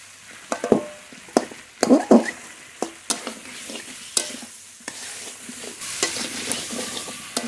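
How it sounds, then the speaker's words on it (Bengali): Boiled giant taro with spices and rohu fish head being stirred and fried in a pan: irregular scraping and knocking strokes over a soft, steady sizzle, fairly close, with no talking. "মশলার সঙ্গে কচু বেশ খানিকক্ষণ ধরে কষিয়ে নিয়েছি।"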